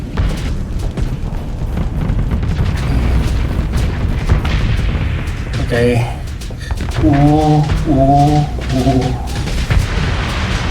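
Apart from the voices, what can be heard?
explosions in the video game Starsector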